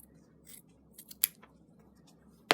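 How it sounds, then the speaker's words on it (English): Scissors snip through fabric binding in a few short, close cuts. Quiet blade clicks lead up to one crisp snip, and a louder clatter comes at the end, with no talking. "then we're just going to trim it off there level with our"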